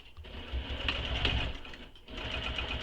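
A sewing machine basting backpack pieces in place, running in a steady, fast, close mechanical whir that drops out briefly near the end and then picks up again, with no talking.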